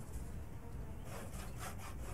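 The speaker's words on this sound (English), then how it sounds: "Let's just saw these up and then I'll barricade the windows with my newly found planks." Wooden planks are sawn in the survival video game Project Zomboid: a steady, rasping back-and-forth of a hand saw on wood that runs continuously and fairly loud for a couple of seconds, with nothing else heard.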